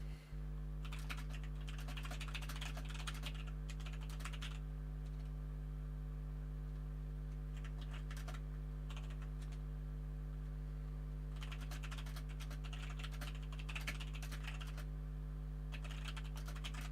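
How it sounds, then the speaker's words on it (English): Computer keyboard typing during a live first-person-shooter team deathmatch tournament broadcast, coming in quick bursts of clicking keys separated by pauses, over a steady low electrical hum with no talking. "I don't know why I'm typing this as live"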